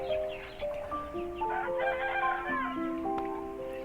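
Free-range village chickens crow and cluck close by, with overlapping calls in a busy, continuous flock chorus and no talking.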